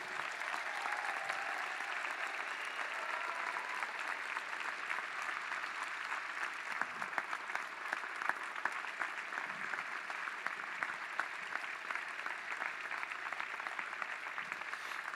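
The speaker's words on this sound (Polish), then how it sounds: "Wielkie, wielkie brawa dla wszystkich księży." A congregation applauding the priests at a church gathering, a long, steady wash of clapping from many hands, even and sustained throughout.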